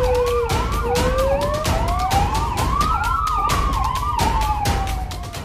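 Police car sirens wail loudly and up close as vehicles rush oxygen cylinder refills to hospitals, with overlapping rising and falling tones over road rumble and scattered honks.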